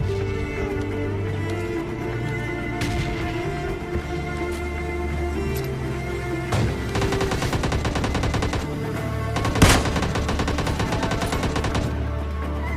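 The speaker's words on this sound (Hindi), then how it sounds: "तो गाइस यहाँ पर हम जैसे ही उस बंदे पर स्कोप करते हैं तो उतना ही में हम पर पीछे से फायरिंग होने लगती है।" Gunfire rattles through a PUBG Mobile match, with continuous dense shooting over steady game noise and one sharp, louder shot standing out near the end.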